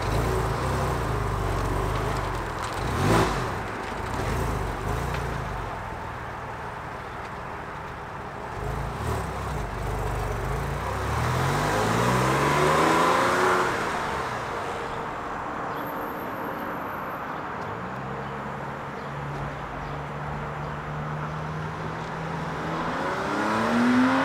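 A Porsche 996 fitted with a Sixty61 muffler bypass drives past, its engine note swelling as it approaches and fading away, with a second rising pass toward the end and no talk.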